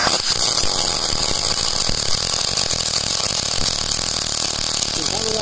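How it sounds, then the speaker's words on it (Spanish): A MIG/MAG welder with solid wire running a weld bead gives a steady, loud crackling buzz that holds unbroken close by for several seconds, with no talk over it. "Arrancamos un cordón de soldadura."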